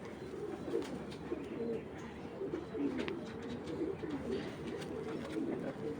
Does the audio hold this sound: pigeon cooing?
yes